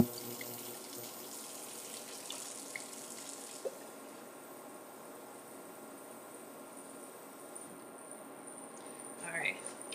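Tap water runs steadily into a 2-cup measuring cup in a home kitchen, a continuous close hiss with faint clinks near the end, while a voice talks intermittently over it.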